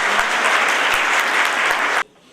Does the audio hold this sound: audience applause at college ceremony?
yes